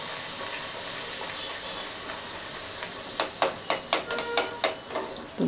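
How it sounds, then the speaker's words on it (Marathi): Masala puris deep-frying in hot oil, a steady close sizzle and hiss building into a series of sharp bubbling bursts as each puri is slipped in and puffs up. "आता एक एक करून मी तुम्हाला पुऱ्या ज्या आहेत त्या तळून दाखवते."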